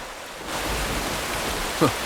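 Heavy rain sets in as a dense, steady hiss that swells after a quieter start and carries on evenly, with a brief voice sound near the end.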